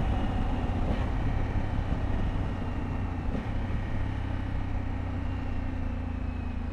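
A 2020 Honda Africa Twin CRF1100 motorcycle running under throttle, a steady loud engine drone with road and wind roar, with no talking.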